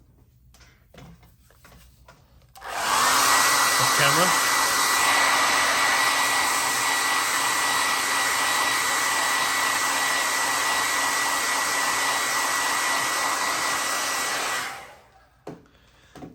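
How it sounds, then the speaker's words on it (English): A hair dryer switches on and blows with a loud, steady roar for about twelve seconds, then cuts off, drying semi-gloss paint on a 1/16 scale Das Werk StuG model tank up close. "So now I'll hit that with the hairdryer"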